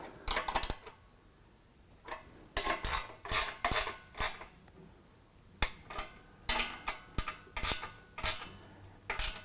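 Metallic ratcheting and clicking while inner rocker bolts are tightened on running-board brackets of a Nissan Frontier, coming in quick repeated bursts with short pauses, close and fairly loud, with no talking.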